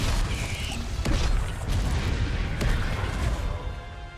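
Confringo blasting spell in Hogwarts Legacy: a rolling series of loud booming blasts and crackling bursts over a continuous roar of combat noise.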